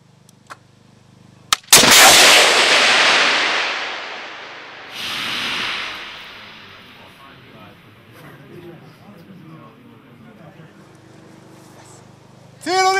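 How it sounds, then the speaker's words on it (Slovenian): Spike missile launch on a firing range: a sharp crack followed by a loud, long roaring whoosh that fades over several seconds, with a second surge midway, and a voice speaking at the very end. "Pozor, streljam!"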